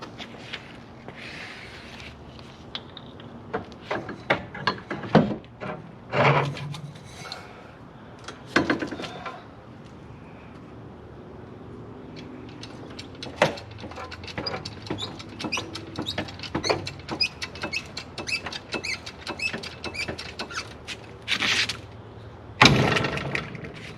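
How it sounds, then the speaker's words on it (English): A porta power hydraulic ram pushing down the rusted axle of a Jeep Wrangler, heard as close mechanical creaks, sharp clicks and metallic pops scattered irregularly over low background noise, with no talk. "I'm gonna use my porta power to push the axle down to get all the tension off of it"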